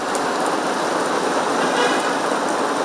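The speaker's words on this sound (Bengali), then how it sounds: "সকাল 7টা বাজতে না বাজতেই শুরু হয় ঝুম বৃষ্টি, সঙ্গে ভয়ের বজ্রপাত।" Heavy downpour pouring steadily over a city in the early morning, a dense, even hiss of rain close by with no pauses and no voices.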